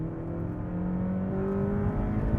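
A Honda Civic Type R engine revs hard as VTEC engages, climbing past 8,000 RPM; a loud, close, sustained mechanical whine that rises steadily in pitch with no talk over it.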